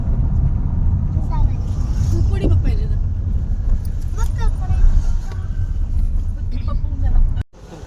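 Interior of a car being driven, a steady low engine and road rumble throughout with people talking over it, cutting off abruptly near the end.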